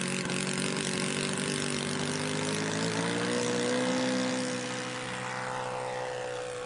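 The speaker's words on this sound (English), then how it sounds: "The half throttle takeoff with an OS-52." The OS-52 engine of a 1/5 scale RC triplane drones loud and steady at half throttle during takeoff. Its buzzing pitch rises gradually and then shifts slightly as the plane moves off.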